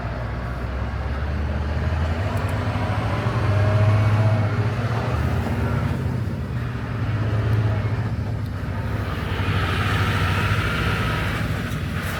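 A vehicle engine idles with a heavy rumble near a trailer at a port, then swells briefly in quick throttle blips over steady low mechanical noise.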